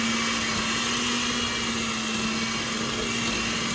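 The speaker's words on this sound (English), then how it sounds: "Now we're gonna blend it until it's nice and smooth." An electric hand mixer whirs steadily, blending a peanut butter cookie mixture in a bowl, with a constant motor hum at close range and no pauses.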